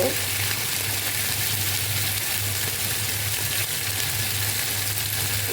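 Ground spices and garlic paste spattering in hot oil while a chicken roast masala cooks, a loud, continuous close-up sizzle and crackle that holds steady from start to finish.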